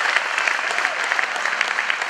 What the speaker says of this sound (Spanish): Un aplauso, Excelente.